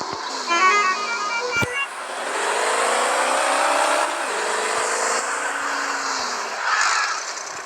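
A car drifts in the Car Parking Multiplayer video game, with a loud, continuous synthetic engine roar and tyre whine that sweeps up and down in pitch throughout.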